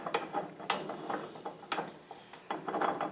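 Metal splined gear parts of a Series transfer case being fitted together during a strip and check. Repeated close clicks, clunks and rattles come in uneven bursts with no voices.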